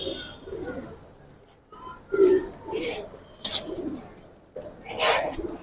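Silver Bengi pigeons coo in low, throaty bursts at close range, with some brief higher chirps. A voice talks intermittently over the calls.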